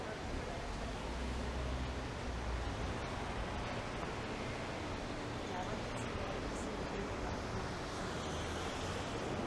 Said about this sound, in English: I haven't seen this water element at this new condo yet